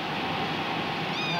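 A kitten at a mobile veterinary clinic in Kyushu gives a brief meow over a constant low background hum.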